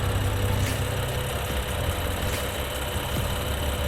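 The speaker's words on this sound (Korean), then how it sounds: "엔진 소리도 일정합니다." A BMW X4 M40i engine idles steadily nearby with the bonnet open, a continuous low rumble with a faint ticking texture and a couple of brief clicks, with no voices.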